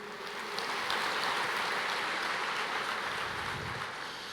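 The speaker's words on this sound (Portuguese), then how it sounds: "Aplauda o Senhor" A church congregation applauds in a continuous, even wash of clapping that sounds soft and somewhat distant, steady throughout with no individual claps standing out and no voices on top.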